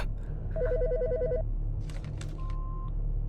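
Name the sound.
telephone ringing in video game Autopsy Simulator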